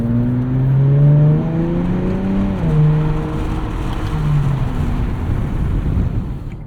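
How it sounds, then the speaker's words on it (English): Exhaust of a 2024 Nissan Z Nismo while driving: a loud, smooth engine drone rises in pitch during a short rev, then settles into a steadier, lower cruising note. "Volume of the exhaust seems to be the same no matter what mode you're in."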